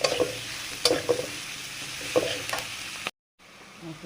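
Garlic, ground spices and salt frying in a pan, giving a steady close sizzle with a few stirring knocks before a brief cut to near silence, then the sizzle returns faintly.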